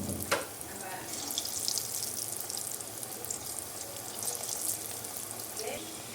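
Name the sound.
deep frying amaranth leaf liver fry pieces in hot oil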